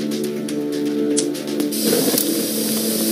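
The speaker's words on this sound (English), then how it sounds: "Bug spray." Bug spray hisses in a video game, a steady airy spray that builds loudly over a sustained music-like drone and runs for a few seconds.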